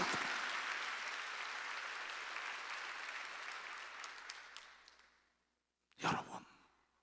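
During an Easter Sunday sermon a church congregation breaks into full, steady applause that gradually fades over about five seconds, followed by a brief silence and then a short, sharp breathy burst close to the microphone.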